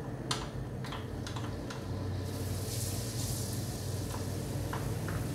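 Garlic sizzles and fries in heated olive oil in a pan, a steady crackling hiss with scattered sharp pops and light utensil clicks, close and moderately quiet.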